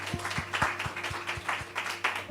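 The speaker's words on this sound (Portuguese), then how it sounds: "Pode aplaudir ao Senhor." A church congregation claps in a steady, moderately paced rhythm, each clap distinct over a low hum, fairly close and not very loud.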